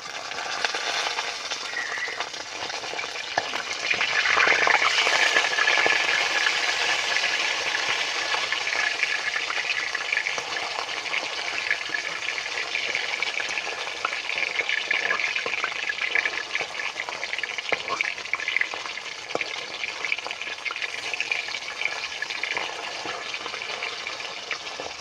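Tilapia fish frying in oil in a pan as the pieces are flipped: a steady, moderately loud sizzle runs throughout, with a brief sharper crackling burst early on and no talk.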